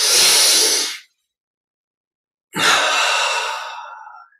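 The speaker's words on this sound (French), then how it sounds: "Double expire par la bouche" Two long, breathy exhalations through the mouth during a guided breathing exercise, each a loud airy whoosh that fades out, separated by about a second and a half of silence.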